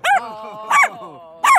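A Labradoodle barks three times at a steady pace, loud and close, with each yelp-like bark followed by a short whining tail, outdoors near Kensington Palace in London.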